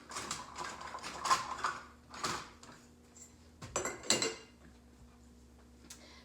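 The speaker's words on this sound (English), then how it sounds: "So we're going to start filling up jars." Glass canning jars clink and clatter as ham stock is ladled in, with sharp clustered metallic and glassy knocks rising in a few bursts over a steady low hum, close and fairly quiet, no talking.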